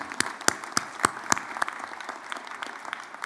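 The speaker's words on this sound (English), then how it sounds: "Can you just give yourselves a round of applause for the journey you've taken?" A graduating class at a June convocation ceremony for transportation, part-time and online learning programs applauds in a large hall. The clapping is moderately loud and scattered, with sharper individual claps standing out over a steady patter.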